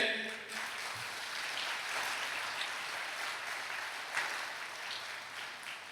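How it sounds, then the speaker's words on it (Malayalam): A church audience claps their hands in a dense, steady burst of applause lasting several seconds, close and loud, with a faint voice mixed in beneath it. "ഒന്ന് കൈയുയർത്തി കൈയടിച്ചേ"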